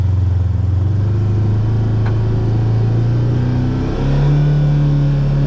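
A Polaris RZR XP side-by-side crawls at about 5 mph in low gear with four-wheel-drive diff lock and the steering held at full lock. Its engine drones steadily and close by, with a rise in revs toward the end.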